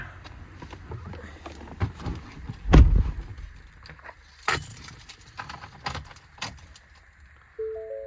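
Keys jangling for a 2019 Ford F-550 truck, a bundle of keys shaken in a few quick metallic bursts, the loudest near the middle, over a quiet room background.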